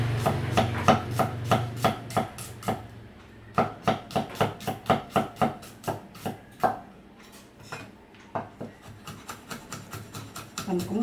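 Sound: knife mincing garlic and chili on a cutting board

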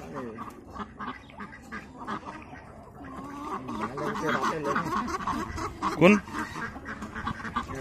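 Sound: ducks quacking

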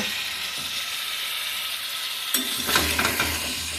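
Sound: spices being stir-fried in a pan for fish curry

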